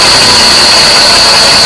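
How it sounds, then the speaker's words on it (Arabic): A Volkswagen Polo 4 engine idles with an abnormal noise, heard close and loud as a steady dense rumble with a constant high-pitched whine riding over it. "فيها صوت غير عادي في المحرك."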